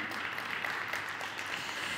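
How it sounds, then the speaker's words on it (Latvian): Quiet, steady applause from a business forum audience welcoming a panel participant, a continuous soft patter of many hands without speech. "Sagaidām ar aplausiem."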